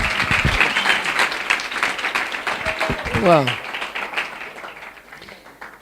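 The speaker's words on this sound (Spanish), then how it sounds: "Un aplauso a nuestro predicador" A church congregation bursts into applause for the preacher, a dense wash of clapping that fills the room and runs under scattered voices and a brief exclamation before slowly thinning out.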